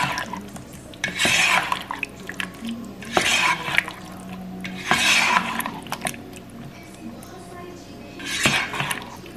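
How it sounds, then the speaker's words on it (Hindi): A spoon scrapes and clinks against a pot as capsicum curry is stirred, the strokes coming in repeated bursts every couple of seconds with soft bubbling between them. "अभी मैं इसकी आँच तेज करूँगी और उसको एक दफ़ा से मिक्स करेंगे।"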